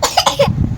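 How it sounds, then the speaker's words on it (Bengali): A child coughs at close range, a quick burst of three or four harsh coughs within under a second, with no talk over it. "কাশি হচ্ছে"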